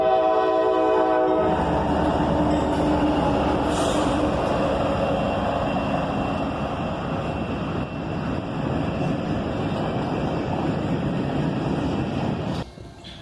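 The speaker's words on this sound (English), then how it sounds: "we're at Leo Street to catch a 4-locomotive lash-up with an SD70 Mac" A freight train led by a four-locomotive lash-up including an SD70 Mac sounds a long, loud multi-tone horn, then rumbles past close by in a steady heavy roar with rail noise.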